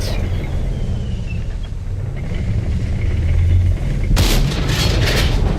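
A tank cannon fires in the console version of World of Tanks: a heavy boom lands late, over a low rumbling engine drone.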